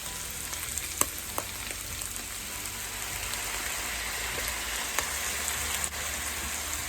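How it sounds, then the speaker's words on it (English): Worcestershire sauce hitting a hot pan of browned beef, a steady crackling sizzle with occasional sharper pops, moderately close and continuous with no talking. "I'm going to add 2 to 3 teaspoons of Worcestershire sauce."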